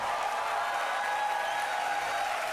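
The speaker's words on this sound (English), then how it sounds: "A big round of applause for her." Crowd applause for a singer after her performance, an even, continuous wash of many hands clapping at moderate distance with no pauses and no talk over it.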